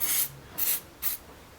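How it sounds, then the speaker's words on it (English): Three short hissing bursts of grease from a spray can, applied over the battery terminals of a Ford Transit 2.5 DI van, each burst close and crisp with brief pauses between. "put a bit of spray grease"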